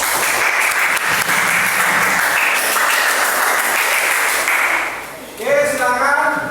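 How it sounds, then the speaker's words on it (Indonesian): A classroom of students at an Indonesian madrasah applauds a group presentation, steady dense clapping filling the room for about five seconds, briefly dipping before a final burst with a few voices over it. "Tepuk tangan."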